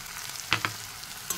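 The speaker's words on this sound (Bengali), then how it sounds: "ভালো করে মশলাটা আমি কষে নেব।" Ground spices with onion paste, turmeric, chili, cumin and salt fry in a pan, sizzling steadily close up, while a utensil stirs through them in a couple of sharp scrapes.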